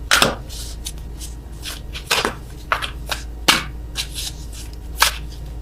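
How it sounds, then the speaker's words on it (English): A deck of tarot cards being shuffled by hand, giving a run of soft riffling bursts and sharp card slaps spaced about a second apart, close and fairly loud, with no one talking. "I am awful at attempting to shuffle these."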